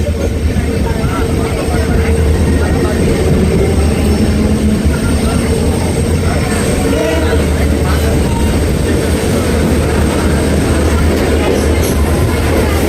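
Mumbai CSMT–Dhule Express hauled by a diesel locomotive, heard from on board as a steady, loud rumble of wheels and engine running continuously throughout.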